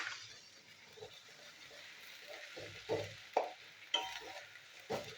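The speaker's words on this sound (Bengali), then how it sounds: "তো আদার পেস্টটাও আমি একটু ভেজে নেবো।" Ginger paste frying and being stirred in a pan for an aloo motor (potato and pea) curry, with a soft steady sizzle and several louder scraping stirs near the end.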